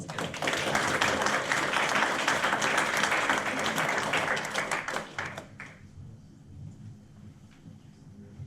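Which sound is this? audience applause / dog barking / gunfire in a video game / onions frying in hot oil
audience applause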